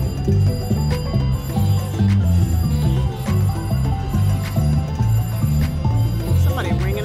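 Ainsworth Eagle Bucks high-limit slot machine ringing in a casino high stakes room, a loud, steady electronic bell-and-tune jingle repeating in rhythmic bursts throughout.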